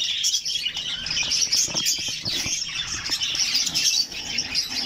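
Dense, high-pitched chirping and twittering of budgerigars at a nest box, continuous and close, with scattered sharper calls and faint rustling.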